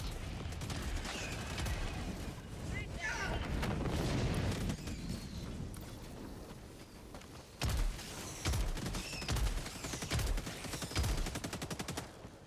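Dense game combat from Helldivers 2, with EMS mortar fire among rapid gunfire and explosions. A continuous loud barrage runs throughout, with heavier thumping blasts in the second half and no talk.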